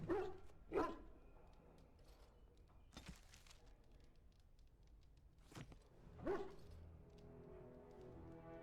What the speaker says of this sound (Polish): Tutaj mamy oczywiście naszego pieska.